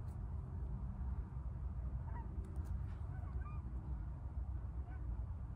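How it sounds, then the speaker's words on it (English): Several geese honk at middle distance in a few scattered calls, over a steady low outdoor rumble and background noise, with no talking. "A couple more geese."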